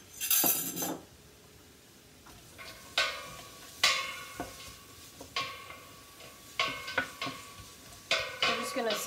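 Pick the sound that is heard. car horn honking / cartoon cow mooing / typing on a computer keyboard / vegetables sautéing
vegetables sautéing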